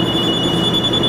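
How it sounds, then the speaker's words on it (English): A kitchen timer goes off after a five-minute egg boil, a loud, steady high-pitched electronic beep ringing continuously with no pauses. "our timer's gone off. 5 minutes is up."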